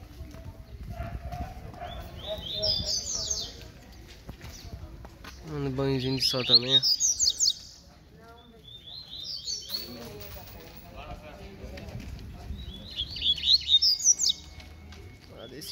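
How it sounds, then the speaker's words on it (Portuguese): A papa-capim seedeater sings in short bursts of bright, high chirps and trills, repeated several times near the listener, while someone talks over it. "E tá outro pássaro aqui"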